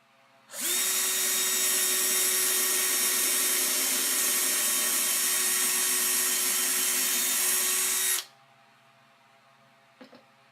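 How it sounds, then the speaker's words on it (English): A power drill whirs steadily at high speed for about eight seconds pre-drilling screw holes in wood for a nightstand, then stops abruptly, followed by a faint click. "I'm pre-drilling holes for those."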